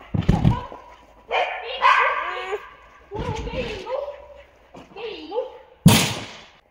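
A dog barks and yips several times in short separate bursts, close by, with a sharp bang near the end.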